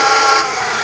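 A steady, loud engine drone hums without a break, close and continuous, with no talking.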